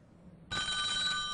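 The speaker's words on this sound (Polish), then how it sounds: "Jest telefon, halo, halo?" A telephone in a TV game-show studio starts ringing abruptly after a short quiet moment, with a steady electronic trill that holds close and clear to the end.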